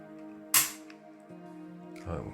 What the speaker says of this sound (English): Let's do some trigger pulls.